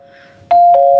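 A shop-counter door chime strikes sharply, then strikes again a moment later, each a clear ringing tone over a faint lingering hum, with no talking.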